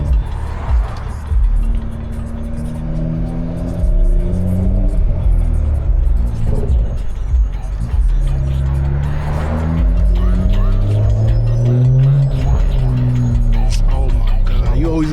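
A tuned BMW fitted with a downpipe launches and revs hard, its engine rising and falling in loud, close pulls with a brief tyre chirp, while people exclaim over it.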